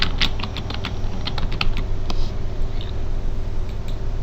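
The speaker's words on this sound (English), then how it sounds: "But then if we type in John Carter," Typing on a computer keyboard, a steady run of light, quick key clicks up close with no talk, over a constant low background hum.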